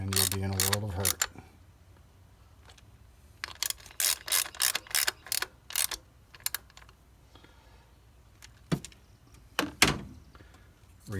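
Ratcheting clicks from tightening the ignition coil bolts on a Nissan Sentra during a spark plug and coil replacement, coming in short close bursts with pauses between them and no talk.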